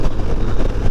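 Strong wind buffets a microphone during a ride in terrible gusty conditions, producing a loud, rough, continuous low rumble with no pauses.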